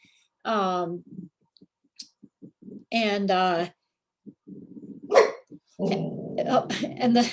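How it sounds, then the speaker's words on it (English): A dog gives two short, clear barks in a quiet room, then makes clicking and shuffling sounds nearby, with a person speaking briefly toward the end. "Sorry, that's my dog."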